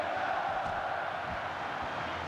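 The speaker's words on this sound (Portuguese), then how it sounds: "Não para um segundo a torcida do Flamengo" Flamengo supporters in a packed stadium during the 1999 Taça Guanabara final against Vasco, a dense steady roar of crowd chanting that holds without break throughout.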